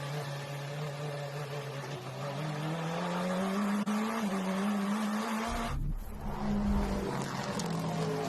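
A race car roars past at Road Atlanta during the Petit Le Mans endurance race, engine note rising, then a sudden loud crash bursts in near the end, followed by continued motor noise.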